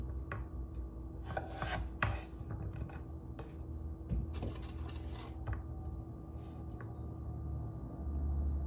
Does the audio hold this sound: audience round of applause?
no